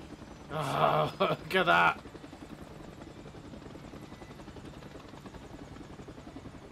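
A helicopter in the PS5 game Final Fantasy VII Rebirth keeps up a steady, loud rotor drone. Someone speaks briefly over it at the start.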